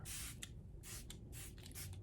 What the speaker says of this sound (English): I will be using my spray though. This is the primer water from Smashbox.